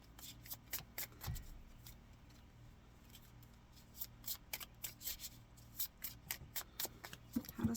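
Tarot cards shuffled and drawn by hand, giving soft riffling flicks and papery rubs in quick irregular bursts, close and quiet with no talking.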